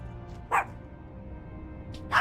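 Dog in the video game World of Warcraft giving two short, sharp barks about a second and a half apart, loud against a quiet, humming game background.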